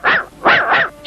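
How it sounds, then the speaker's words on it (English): A cartoon dog, Snowy, barks three times in close succession, loud and near, each bark bright and yappy with a brief gap after the first, and no talking over them. "Snowy! What are you barking at?"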